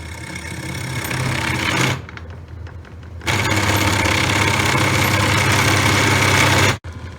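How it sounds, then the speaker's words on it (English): A power drill with a 1-inch bit bores a hole for doorbell wiring, its loud, steady whir running in two close bursts separated by a short pause, with no talking. "I'm going to drill a hole that lines up with this right here. I've got a 1-inch bit here."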